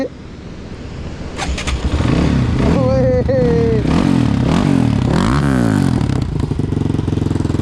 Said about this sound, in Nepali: बाइक आफै स्टार्ट हुन्छ यार